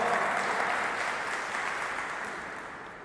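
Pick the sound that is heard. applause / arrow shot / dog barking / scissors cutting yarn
applause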